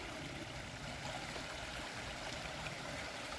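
A small river flows steadily along the Appalachian Trail near Delaware Water Gap, a continuous broadband rush of water that stays even and close throughout with no voices.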